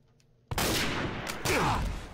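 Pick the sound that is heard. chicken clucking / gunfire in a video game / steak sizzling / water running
gunfire in a video game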